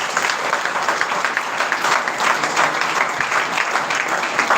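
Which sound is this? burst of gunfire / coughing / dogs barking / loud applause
loud applause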